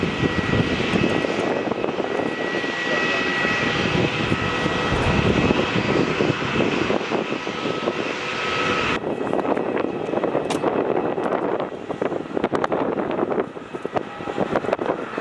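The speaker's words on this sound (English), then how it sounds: "JetStar A320 coming into the remote stand." Jetstar Airbus A320 jet taxiing into a remote stand at Melbourne Airport, a loud, continuous engine roar and whine heard close by, with its tone shifting partway through.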